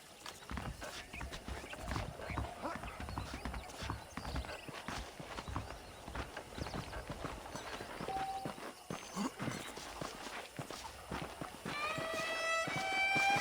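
A horse in Red Dead Redemption clip-clops in a steady trotting rhythm throughout, with a brief whinny and a rising musical swell near the end.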